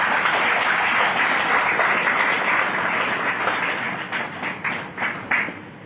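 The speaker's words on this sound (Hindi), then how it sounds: "इसलिए उनके लिए पहले तालियां बजाएं।" An audience at a healthcare seminar in Nagpur breaks into loud, sustained applause, a dense wash of clapping that thins toward the end into scattered individual claps, with no talking over it.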